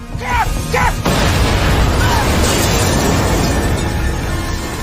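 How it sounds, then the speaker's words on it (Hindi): A sudden loud boom hits about a second in, followed by a sustained roaring rumble that fills the rest of the clip; a brief voice is heard just before. "एक जोरदार धमाके के साथ बक बेतहाशा बस की ओर दौड़ा।"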